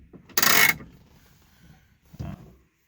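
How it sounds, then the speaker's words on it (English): The pistol-grip handbrake of a 1963 Chevrolet Corvair Monza 900 being worked: a sharp mechanical ratcheting pull, a pause, then a shorter clunk as it releases, close and alone. "The handbrake is over here on the left."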